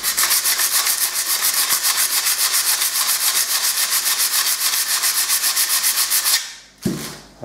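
Steady back-and-forth rubbing of fine 260-grit sandpaper on a metal part, rapid even strokes filling most of the clip before a short pause and one final stroke, loud and close.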